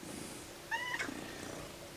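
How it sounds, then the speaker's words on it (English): A large, heavy house cat gives a single short meow, clear but not loud, over quiet room tone with no talking. "Humongous cat"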